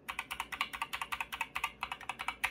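Keys clack on a GK61 mechanical keyboard, a quick, steady run of sharp, fairly close keycap strikes with no talking over them.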